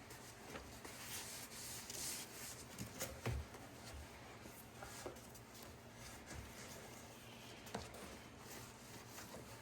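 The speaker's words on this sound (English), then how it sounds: "take a clean rag and wipe off any excess dust off the faces and edges" A clean rag wipes dust from the faces and edges of a freshly sanded wooden cutting board, a soft, steady rubbing with a few light knocks, close and quiet, with no talking.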